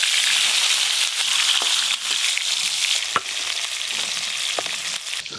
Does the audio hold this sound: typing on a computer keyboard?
no